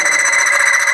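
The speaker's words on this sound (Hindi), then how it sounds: "आप समझ रहे हैं फ्रिक्शन की साउंड और बढ़ रही है" Under increasing load, a hardened steel ball grinds against metal, producing a loud, continuous shrill whine with a fast, even pulsing throb throughout.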